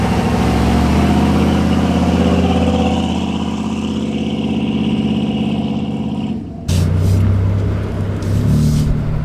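A 1968 Ford Bronco drives past close by in the desert. Its engine roars steadily and loud, the pitch shifting as it passes, then dips briefly before another loud engine surge follows.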